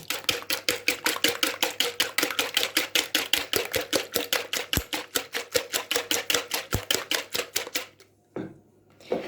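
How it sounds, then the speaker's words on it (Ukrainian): Two eggs whisked briskly in a bowl with a fork or whisk, a fast steady stream of sharp close clicks that stops near the end, leaving a brief soft scrape, with no talk. "І так трішки збиваю, щоб білок змішався з жовтком"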